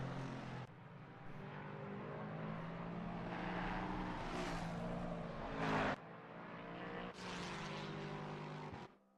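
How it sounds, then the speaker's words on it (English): Race cars roar steadily in a sim racing game, including a Lexus and a Ford on a tar road, engine notes rising and shifting continuously with brief dips, loud and close without talk. "Here Groenewald just making sure he gets that Lexus stuck to the tar road"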